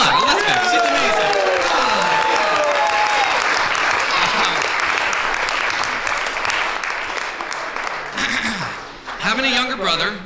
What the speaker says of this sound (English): So round of applause. Come on, Elizabeth.